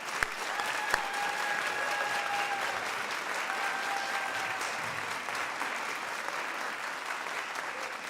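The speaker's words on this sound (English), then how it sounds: "I'd like for all of us to give her a big round of applause for that" An audience at a college pinning ceremony gives a sustained round of applause to a longtime program director, steady dense clapping with a few voices rising over it.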